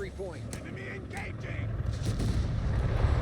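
Tank gun fire in Company of Heroes 3, a German Afrika Korps versus US Forces match, with a loud cannon report early on followed by explosions and battle rumble as a caster keeps talking over it.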